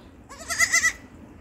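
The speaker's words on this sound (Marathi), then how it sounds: "हे आहे आमचे छोटे छोटे बकरू।" Young goat kids bleat at home on a family farm, a short run of three or four wavering cries close by, rising and falling over a quiet background with no talking.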